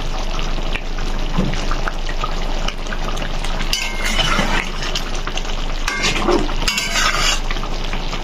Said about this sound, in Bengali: একটুখানি এটাকে ফুটিয়ে নিলেই আমাদের কোপ্তা রেডি।